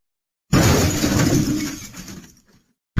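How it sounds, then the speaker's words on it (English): A thin glass pane shatters as a dropped cricket ball strikes it, one loud close crash followed by a tinkling spray of falling shards that fades out over about two seconds. "The glass pane shattered."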